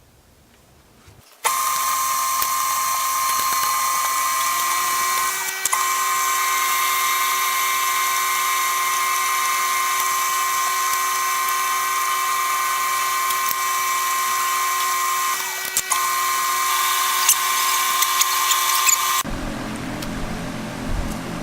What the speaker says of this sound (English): what I'm doing on the lathe here is making that through pin that'll hold the auger bit on